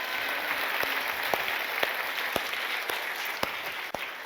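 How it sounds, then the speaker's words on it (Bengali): A church congregation claps for the Lord during a Bengali sermon, the applause faint and distant as a hissy wash with regular sharp claps about every half second. "ওখান জোরে একবার প্রভুর জন্য করতালি দি"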